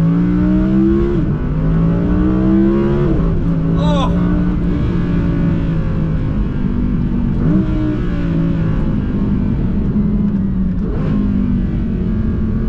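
An Audi R8 with a V10 engine revs and pulls through first gear, its rising and falling engine note steady and loud throughout, with exclamations from someone riding along.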